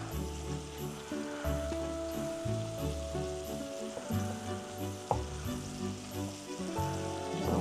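Mushrooms fry in butter in a pan with a steady crackling sizzle, punctuated by stirring scrapes and clanks of a spoon against the pan, including one sharp knock near the end.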